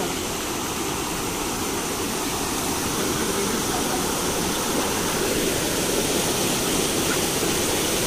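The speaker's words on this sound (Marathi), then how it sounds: "चला मित्रांनो, खाली जाऊया आणि बघूया वॉटरफॉल कशा प्रकारे आहे." A hidden waterfall near Shirwande village roars in a dense, unbroken rush, loud and close, with no voices over the constant cascade.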